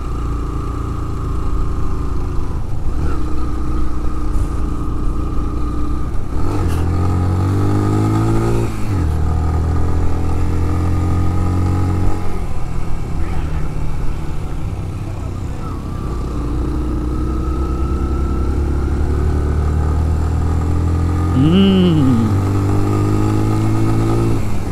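A motorcycle climbs a steady uphill stretch on the road to Fort Munro, its engine droning and revving continuously and loud throughout, with gear changes and shifting pitch as it pulls up the final slope.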